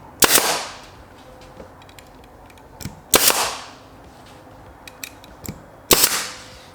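A staple gun fires three sharp, loud snaps a few seconds apart, fastening a towel onto a sound absorption panel frame, with quiet handling noise in between.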